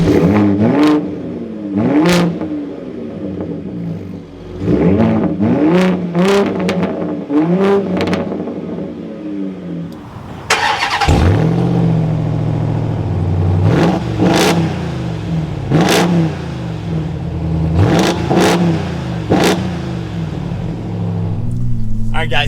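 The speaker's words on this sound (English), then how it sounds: "let's get a rev of each truck and then take them for a spin" A 2023 RAM TRX V8 and a Ford Raptor EcoBoost pickup are revved in turn, loud close engine blips rising and falling repeatedly, with a deeper sustained idle rumble after a pause.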